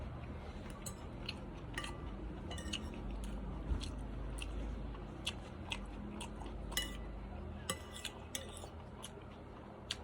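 Crunchy chewing of crispy chicken close to the mic, with scattered crisp bites and clicks over a steady low background hum, no talking.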